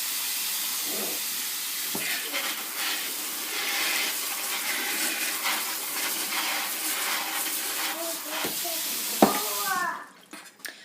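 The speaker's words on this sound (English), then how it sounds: "I put them right over here into my sink, and I'm just going to clean them off" Tomatoes held in a food-steamer net are rinsed under a kitchen sink tap: a steady, close rush of running water that cuts off abruptly near the end.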